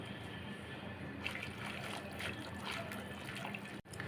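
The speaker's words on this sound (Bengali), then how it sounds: "আমি ঘুটনি দিয়ে একটু ঘুটে দিচ্ছি" Tomato sour curry is mashed in a pot with a wooden whisk, giving a soft, continuous wet sloshing and squelching, close but quiet, that ends with a brief knock.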